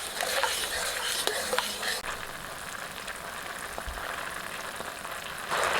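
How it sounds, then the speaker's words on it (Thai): Fast stirring of a Thai three-flavour pork sauce thickened with tapioca starch dissolved in water, a steady sizzling, scraping swirl in a pan with occasional utensil clinks, continuous and close. "แป้งมันละลายกับน้ ำใส่แล้วก็คนเร็ว ๆไม่ต้องเหนียวมาก"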